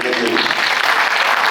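Audience applause at a Chhattisgarhi drama festival performance, a short burst of loud clapping that fills the moment.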